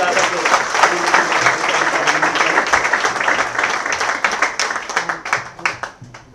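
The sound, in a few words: audience applause at event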